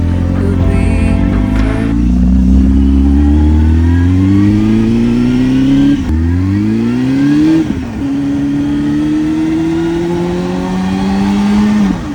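A Honda Hornet motorcycle engine revs loud and close, its pitch climbing in several long sweeps, dropping back and rising again with no talking.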